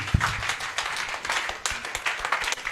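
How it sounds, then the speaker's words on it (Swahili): A church congregation at a deliverance service claps hands in a steady, fairly soft patter, with scattered voices mixed in. "Tupige makofi, tupige makofi"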